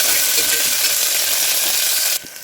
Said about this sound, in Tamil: இப்போ நம்ம வெங்காயம் கருவேப்பிலை சேர்த்து நல்லா வதக்கிக்கலாம்